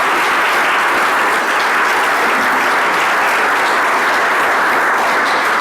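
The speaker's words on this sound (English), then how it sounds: "So just a round of applause from us from Liberty" Sustained applause from an audience at a Chamber of Commerce leadership awards event, loud and dense throughout with no pauses.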